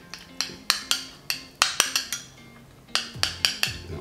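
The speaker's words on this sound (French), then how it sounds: "Remuer." Stirring in a dish while making a tomato, mozzarella and pesto recipe: a series of sharp metallic clinks and taps of a utensil against the dish, irregular and close, in bursts with a short pause midway, no voices.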